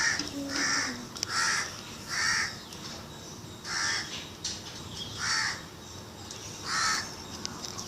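A crow caws repeatedly outdoors, about eight harsh calls spaced roughly a second apart, moderately distant and fairly faint over a quiet background.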